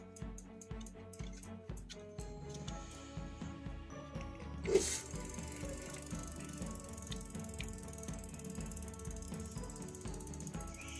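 E-bike hub motor with a suspected faulty throttle or controller, running with the wheel spinning under throttle, giving a steady mechanical whir with ratchet-like clicking, a brief sharp clunk midway, then continuous whirring at full speed.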